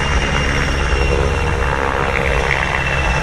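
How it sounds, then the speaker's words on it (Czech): A helicopter flies aerobatic figures overhead at the Pardubice air show, a loud, continuous broadband engine and rotor roar that stays steady throughout. "A následovat bude řada figur prováděných pilotem vrtulníku."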